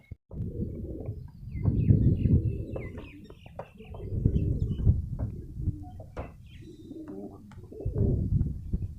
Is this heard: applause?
no